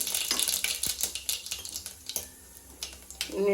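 Mustard seeds and cumin hit hot oil in a pan for tempering bottle gourd curry, giving a close, irregular crackle of sharp pops and ticks with a soft sizzle underneath.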